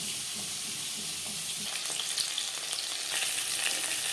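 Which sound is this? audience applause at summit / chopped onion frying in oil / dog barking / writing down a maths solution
chopped onion frying in oil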